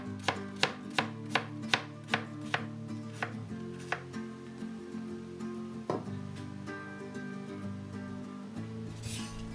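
A knife slices thinly through carrots on a cutting board, starting with a quick run of about eight sharp, evenly spaced chops, then slowing to a few scattered cuts. Close and crisp, with no voices.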